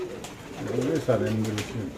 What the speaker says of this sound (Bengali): এখানে আছে এক পেয়ার কবুতর